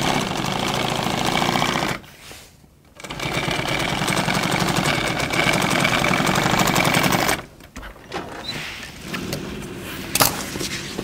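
A sewing machine runs in loud, steady bursts of rapid stitching while sewing a seam dart, stopping twice briefly between runs, with no voices.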